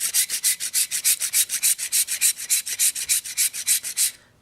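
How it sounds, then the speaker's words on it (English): Rasp filing the base of a sculpture over cardboard, about two dozen quick rhythmic strokes, loud and close, stopping abruptly at the end. "And I'm going to rasp off the bottom, or what I've determined is the bottom, until it will stand."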